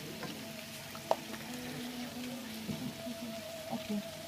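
Prawns frying in a pan with zucchini, giving a steady soft sizzle with scattered small pops and a few light clinks, close by and moderately quiet, with no talking.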